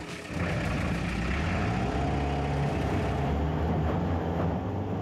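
A military buggy's small engine idles smoothly and steadily at close range, a low even hum with no revving and no talk over it.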